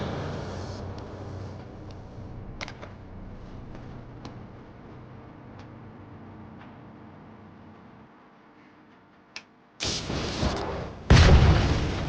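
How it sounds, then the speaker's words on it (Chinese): A lead-acid electric bike battery, modified for extra capacity with its charging protection disabled, builds up hydrogen from overcharging and explodes: a quiet rumbling stretch with scattered clicks gives way to two sudden, loud, close blasts near the end. "这就是当晚发生的第1次爆炸"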